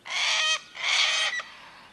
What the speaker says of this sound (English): The silvereye, gregarious birds with a melodious song, live in a group of several dozen individuals.